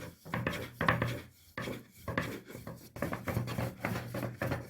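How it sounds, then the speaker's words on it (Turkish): Dough balls for Sivas katmer are rolled out on a floured counter, with close, repeated rumbling passes of a rolling pin that come in bursts separated by short pauses. "Evet bezemizi unla açabildiğimiz kadar açıyoruz."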